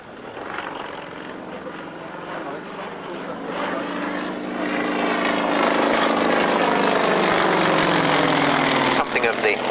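Aerobatic aircraft at the 1996 Yeovil Airshow drones through a tail slide, its engine swelling from a moderate hum to a loud sustained roar with shifting pitch, while a commentator talks over it.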